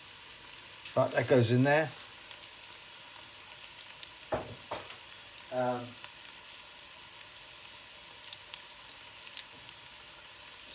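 Brown and black mustard seeds frying in a pan for an okra and tomato curry give a steady, faint sizzle and crackle throughout, briefly interrupted by a short spoken remark and a couple of utensil sounds.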